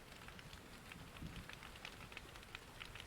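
Cold rain falls steadily in a broad, even patter on surfaces, with scattered louder drops through the texture and a low rumble underneath; no voices.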